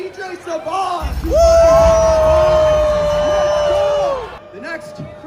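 At a hackathon rave, a crowd cheers for a DJ, dominated by one long, loud, sustained shout held for about three seconds over a rumbling background of crowd noise, with short yells before and after.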